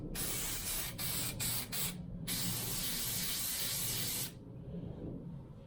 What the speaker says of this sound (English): All you really need to do is spray both faces